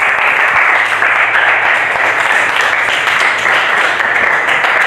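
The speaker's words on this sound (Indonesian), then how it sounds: "Tepuk tangan untuk 2 kelompok." Loud, steady classroom applause from students clapping for two presenting groups during a teaching session, continuous dense clapping close by with little else audible.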